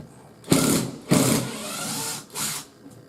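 A Makita 18V LXT cordless impact driver whirs in three short bursts while removing screws, each a high buzzing spin lasting under a second, with brief pauses between them, up close.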